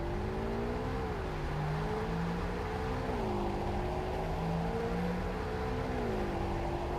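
Simulated engine of a Mazda Miata MX-5 driving in the Roblox game Greenville, a steady tonal hum whose pitch rises and dips with gear changes and throttle, loud and continuous with no talk.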